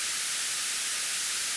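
A pure white noise generator channel on a synthesizer puts out a steady, hissing wash of static, constant in loudness throughout with no breaks or changes.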